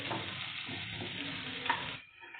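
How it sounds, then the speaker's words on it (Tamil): Onions and curry leaves with a little rock salt sautéing in a pan for chickpea gravy, a dense close sizzle with stirring scrapes that drops away near the end. "கருவேப்பிலை சேர்த்துக்கிறோம். நல்லா வெங்காயத்தோடு போட்டு நல்லா வதக்கிக்கோங்க."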